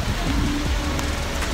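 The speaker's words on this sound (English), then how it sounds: "it's pouring outside" Heavy typhoon rain pouring outside at Gwangjang Market in Seoul, a dense continuous roar of rainfall with faint background clatter.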